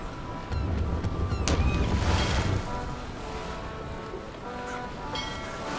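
Ocean waves in a video game wash and surge with a broad, rushing roar that swells in the first half and then settles to a steadier, softer wash, with faint creaks and tones scattered across the sea ambience.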